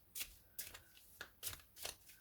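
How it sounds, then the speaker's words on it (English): Tarot cards are shuffled in short bursts, about five quick riffling swishes with brief pauses between, close and fairly quiet. "One last shuffle."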